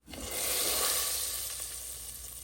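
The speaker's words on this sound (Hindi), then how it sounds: "घी का तड़का लगा देती हूँ दाल को" Ghee tempering for dal with cumin and garlic sizzles loudly in a hot pan, a steady bright frying hiss that swells in within a moment and holds close and continuous.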